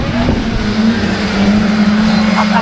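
Class 4 autograss race cars roar together on a Nottingham dirt track at the start of a race, a loud, dense engine drone with a sustained high whine and no pauses.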